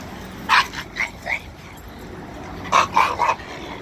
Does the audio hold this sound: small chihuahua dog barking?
yes